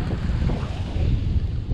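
Beach on a shallow bay with a beach restaurant: steady wind buffeting the microphone over a continuous low rush of ocean waves, loud and unbroken, with no voices.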